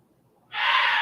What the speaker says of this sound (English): you can hear my bird in the background